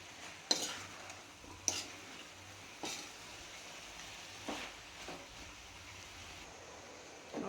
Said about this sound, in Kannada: ಜಸ್ಟ್ ಇವಾಗ ಒಂದು ಮಿಕ್ಸ್ ಕೊಟ್ಟು ಲಿಡ್ಡನ್ನು ಕ್ಲೋಸ್ ಮಾಡ್ಕೊಳ್ತೇನೆ.